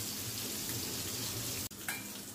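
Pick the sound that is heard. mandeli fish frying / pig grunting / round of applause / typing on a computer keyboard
mandeli fish frying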